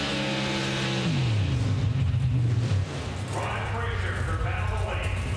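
Greg Anderson's and Ron Krisher's drag racing cars launch together at the Summit Racing Equinox Nationals, a loud roaring engine wall that drops in pitch as they pull away and keeps blaring steadily throughout.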